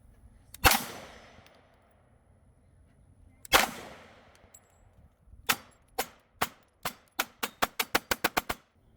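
A Springfield Armory Echelon 9mm pistol fired outdoors: two loud single shots with long pauses, then a string of quick evenly spaced shots speeding into a fast rapid-fire run, each crack sharp and close with short decay.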